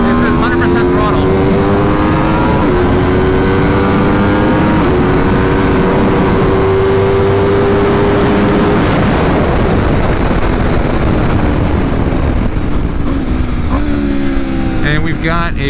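A 2022 Aprilia RSV4 Factory 1100 superbike with a BT Moto ECU flash tune screams at full throttle through first gear up a hill road, its loud engine note rising steadily in pitch through the run before a brief drop near the end.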